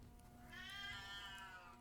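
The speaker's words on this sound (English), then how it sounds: "Meow. Meow." A house cat lets out a single drawn-out meow, faint and somewhat distant, rising and falling over a quiet room with steady background hum.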